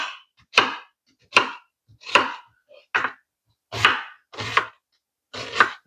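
Onion being chopped with a knife on a board in a home kitchen while making bacon and egg tacos: seven distinct, evenly spaced chops with short gaps between them, close and crisp, and no voices.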